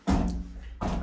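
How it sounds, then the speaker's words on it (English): A foot kicks a hotel room door at Tokyo Disneyland Hotel: two heavy, close thuds, one at the start and another near the end, with a dull resonant body between. "I just kicked the door."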